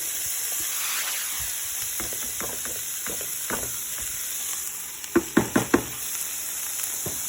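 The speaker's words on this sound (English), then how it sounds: "we've added a third of a stick of butter, and then we're going to add all our vegetables in" Vegetables hiss and sizzle continuously in a pan of canola oil and butter, with soft scattered clatter that ends in four quick, sharp knocks of a utensil on the pan.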